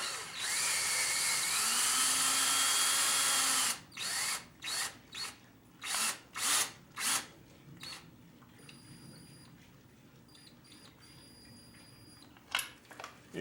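Power drill run in a series of short bursts while working on the wheel of a Honda XR650R dirt bike during a tire change, after a long steady whir; close, loud and alone, then a final brief burst.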